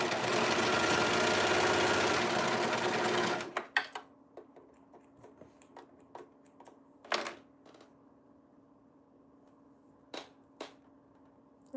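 A sewing machine stitching a gown runs in a loud, fast, steady whir for a few seconds, then stops; short clicks and brief bursts of stitching follow in a quiet room.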